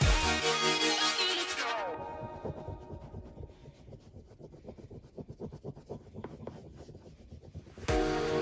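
A World War 1 medal is scrubbed hard with a cloth, a close, steady scratchy rubbing in quick back-and-forth strokes, with louder noise at the start and end and no talk.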